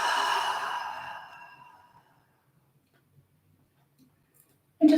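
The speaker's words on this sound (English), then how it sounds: "Exhaling out through the mouth." A long, soft exhale through the mouth during a guided yoga breathing exercise, breathy and close, fading out over about two seconds before near silence and a brief knock at the end.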